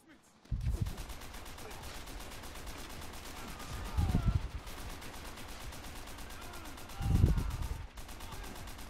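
Rapid automatic gunfire from a Call of Duty match runs continuously and fairly loud, with heavier blasts standing out now and then. Voices talk over the shooting at times.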